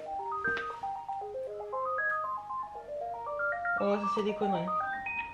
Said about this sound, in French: Il sonne rarement le fixe alors.